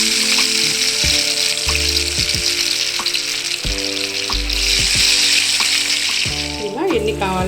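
Potatoes frying in hot oil over a medium flame, a loud, steady crackling sizzle close by, with music running underneath and a short bright swish near the end.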